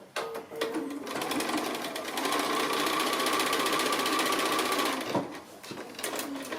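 Sewing machine running steadily for about four seconds as it stitches a diagonal seam across small quilt pieces, a close, even mechanical whir with short handling noises before and after.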